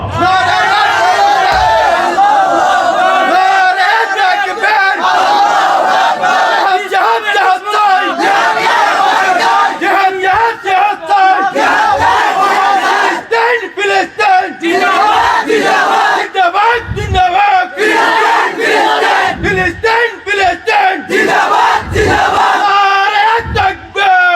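A large crowd at a religious sermon gathering loudly chants slogans back and forth with a preacher, a dense roar of massed voices that rises in repeated rhythmic shouts and never drops to quiet.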